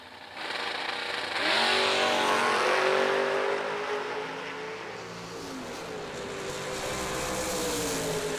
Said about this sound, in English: In Timmy Elliott's Hot Rod taking on Kyler Johnson